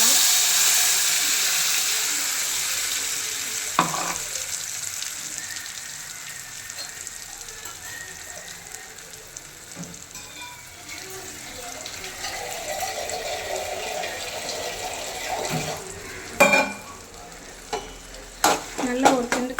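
Masala paste for mutton rasam sizzles steadily in a pan while being stirred, with a soft continuous hiss and scattered scrapes and clinks that grow sharper near the end.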